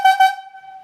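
A yarder whistle sounds the logging signal to send back powder, two quick short toots merging into a held tone that fades, loud and nearby with no voices.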